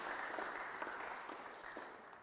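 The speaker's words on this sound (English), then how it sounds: "can we get a round of applause for those people" An audience at a school First XI football presentation applauds steadily for about two seconds, a dense wash of many hands clapping at moderate volume with no speech over it.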